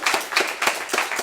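An audience at a live performance claps in a short, sparse burst, with a handful of distinct hand claps in loose rhythm rather than a dense roar.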